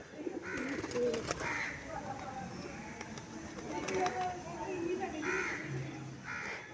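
Breeder pigeons released inside a cage, with soft cooing calls and wing flutters at close range, faint and intermittent beneath someone speaking.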